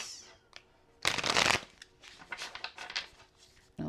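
A deck of tarot cards being shuffled up close in soft riffles, with one loud, dense burst followed by lighter flicks and taps in a quiet room.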